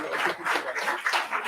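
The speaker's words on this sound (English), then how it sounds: "With a bigger round of applause, please." A hall audience at an economic forum event gives a short round of applause, a steady patter of clapping hands at moderate distance.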